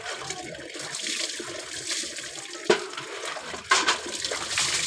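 Cold water pours and splashes steadily while a pet is bathed, with two brief louder splashes partway through and no clear talking.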